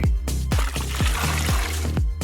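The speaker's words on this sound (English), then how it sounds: "Now add some water." Water is poured onto broken-up snow, producing a rhythmic series of gurgling glugs and splashes, close and fairly loud.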